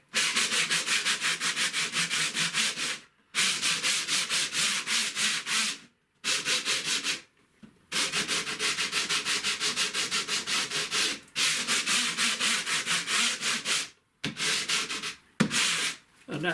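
A tea towel rubs firmly over a plastic surface in long continuous scrubbing bursts, each a few seconds long and separated by short pauses, close and fairly loud with no talking.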